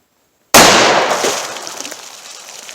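Single loud gunshot from a .357 Magnum pistol firing a Hornady Critical Duty round, a sharp crack after silence followed by a decaying outdoor echo.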